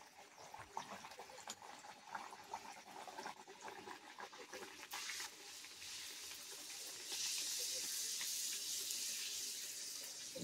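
Bhature frying in hot oil for chole bhature, a steady hiss and sizzle that grows brighter and louder partway through, with no talk over it.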